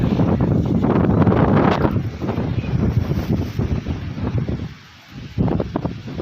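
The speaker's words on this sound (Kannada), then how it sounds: "ಜೋರಾಗಿ ಗಾಳಿ ಬರ್ತಾ ಬೀಸ್ತಾ ಇದ್ದೆ" Strong wind roars and buffets the microphone in heavy continuous gusts, easing briefly near the end before picking up again.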